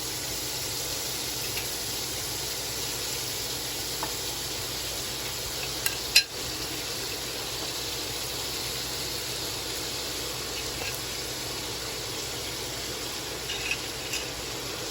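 Shrimp cooking in garlic butter in a pot, a steady soft sizzling hiss held throughout with a few faint clicks, close and with no voices.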